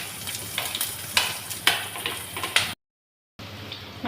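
Garlic and green chilli fry in a pan with a few curry leaves, a close crackling sizzle with light scrapes and ticks of a spoon, briefly cut to silence before the sizzle returns.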